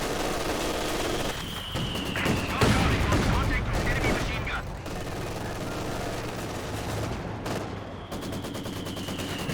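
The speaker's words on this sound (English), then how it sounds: "machine guns shutting them down" Rapid machine gun bursts rattle through a Company of Heroes 2 battle alongside other gunfire and booms, a dense, loud stretch of combat that runs without pause.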